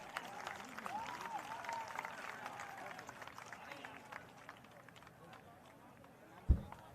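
Audience applause at the official launch of a politician's Jan Suraaj political party: steady crowd clapping that runs throughout, mixed under someone speaking over a microphone, with one brief thump near the end.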